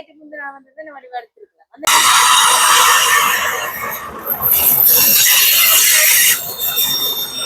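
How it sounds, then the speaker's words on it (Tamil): After a brief voice, a train suddenly roars past close by at Kankesanthurai, loud and continuous, with rattling wheels and high metallic squeals for several seconds. "ட்ரெயின் போய் கொண்டிருக்குது"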